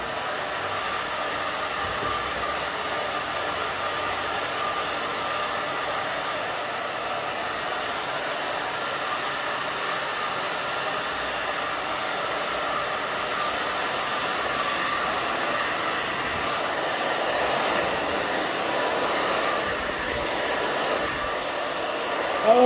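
A hair dryer blows steadily on damp hair during a pixie cut grow-out styling, a constant close whooshing roar that runs unbroken and alone, with no talking.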